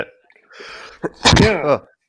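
A single close sneeze, preceded by a sharp intake of breath and followed right away by a short voiced utterance.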